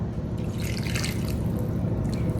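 Water pours steadily into a cracker dough mixture seasoned with everything bagel seasoning and oil, a close, continuous trickle and splash lasting a couple of seconds.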